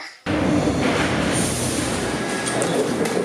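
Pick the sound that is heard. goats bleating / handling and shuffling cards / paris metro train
paris metro train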